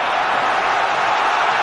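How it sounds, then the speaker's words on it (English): A large football crowd roars in a stadium during an England versus Croatia Euro 2008 qualifier, a loud, dense, continuous wall of cheering with no break across the short stretch. "the crowd have really raised the volume at the start of the second half"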